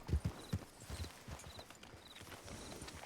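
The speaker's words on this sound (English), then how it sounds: "we were riding at full speed" A horse's hooves clatter at full riding speed in a video game, with a few heavy, close thuds at first that thin into lighter, irregular hoof beats over a quiet background.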